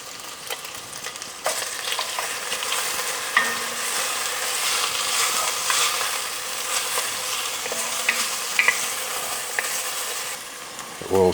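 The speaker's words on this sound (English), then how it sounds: "The oil's starting to release from our bacon." Wagyu bacon fries in a pan over high heat, giving a steady close crackle and sizzle with scattered pops and occasional faint utensil clicks, with no one talking.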